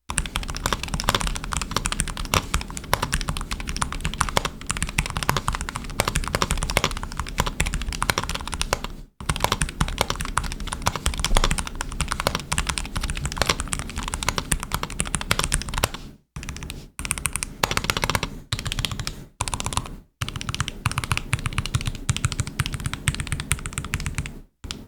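Fast, continuous typing on a NuPhy Air75 HE mechanical keyboard with plate-mounted stabilizers, close and crisp clacks in a dense rhythm, with a few brief pauses near the end and no talking.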